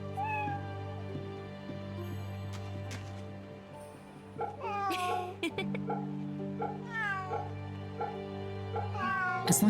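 Repeated cat meows from Fate/Samurai Remnant, a few brief calls midway and a louder cluster toward the end, heard against steady in-game music.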